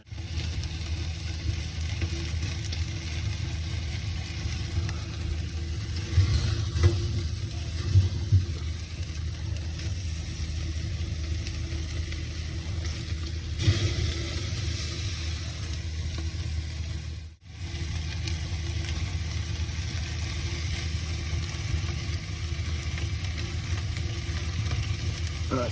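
Tomahawk ribeye steaks sear in a hot pan with a loud, steady sizzle that runs unbroken except for a brief dip, with a few faint knocks as the meat is turned and no talk.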